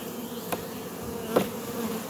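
Honeybees in a backyard apiary hum steadily and close by while a hive is opened for a colony check on a warm 75-degree day, with two brief soft knocks or thumps standing out over the drone.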